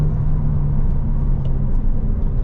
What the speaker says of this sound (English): This actually sounds good. You hear that flat 6.